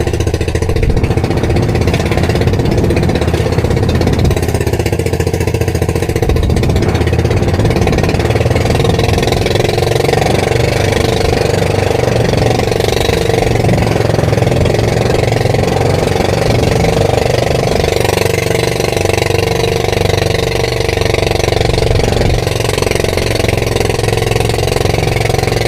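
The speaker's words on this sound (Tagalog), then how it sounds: "Palyado itong makina." A boat engine that is misfiring runs steadily and loudly throughout at sea, a continuous rough, throbbing mechanical drone with uneven pulsing and no talk over it.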